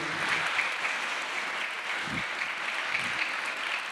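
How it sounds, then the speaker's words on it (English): An audience at a UNESCO campus event on women and climate change claps for a speaker, a steady, full round of applause filling the space with no voices, holding evenly to the end. "Je vous demande de l'applaudir"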